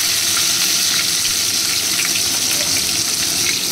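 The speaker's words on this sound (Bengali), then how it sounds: "এটা গরম হয়ে গেছে, আমি এর মধ্যে পেঁয়াজ ছেড়ে দিলাম।" Chopped onions frying in hot oil for flat noodles, a loud, dense, continuous hiss of sizzling that stays steady and close throughout.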